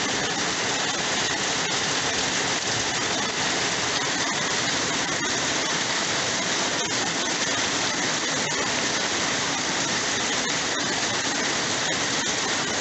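Steady, dense rushing of rainwater as a creek begins to flow, with no voices.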